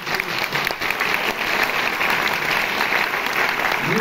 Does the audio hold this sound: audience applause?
yes